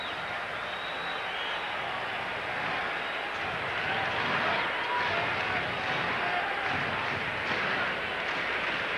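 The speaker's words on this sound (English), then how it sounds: "Every pitch, oohs and ahs and cheers for Levon" Baseball crowd at a Cardinals at Giants game, a steady, broad wash of cheering and murmuring oohs filling the ballpark throughout an at bat, with no clear talk on top.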